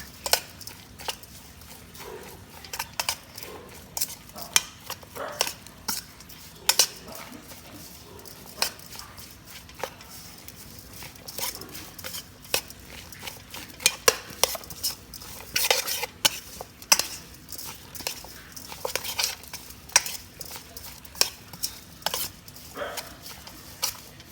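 Catfish larb mixture is stirred and mashed in a bowl, producing irregular close clicks and knocks of a utensil against the dish, with quieter stretches between bursts, no one speaking.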